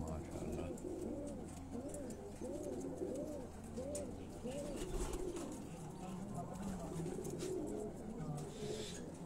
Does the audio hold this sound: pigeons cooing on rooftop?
yes